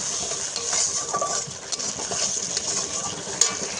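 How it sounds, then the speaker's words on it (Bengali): A paste of cumin, mustard and pepper fries in a pan with a steady soft sizzle, as a utensil stirs it with scraping and clinking and one sharp clink near the end. "জিরে সর্ষে আর গোলমরিচের পেস্টটা দিয়েও ভালো করে একটু কষিয়ে নিতে হবে।"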